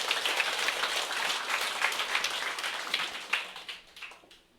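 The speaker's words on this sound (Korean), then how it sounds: "모두 박수 한번 치세요" An audience at a business presentation claps, a bright, scattered patter that holds steady for a few seconds and then thins out and fades.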